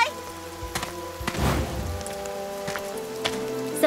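Rain in the anime game Princess Connect Re:Dive, a soft steady patter with a heavier thump near the start of the rain and a few scattered drips, played alone without talk.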